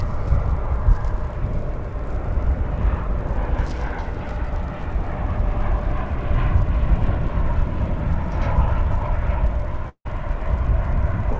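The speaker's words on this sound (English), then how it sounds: "Try to find that plane taking off in just a second." An airplane taking off at DFW Airport produces a steady, broad roar that drones without letup for about eleven seconds, heard from a distance across the open airfield, with no talking.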